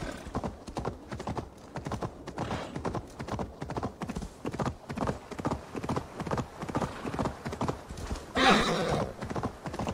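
A horse gallops in the video game Assassin's Creed Valhalla, its hooves clip-clopping in a fast, steady rhythm throughout, with a whinny and a burst of noise near the end.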